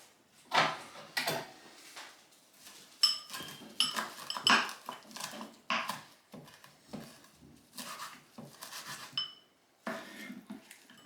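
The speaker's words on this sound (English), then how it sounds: "So you could chop it up or add it in whole. I'll just chop it a little bit." A knife chops fresh basil leaves for a fresh-tomato marinara sauce, giving an irregular run of quick, light taps and scrapes close by, with short pauses between bursts.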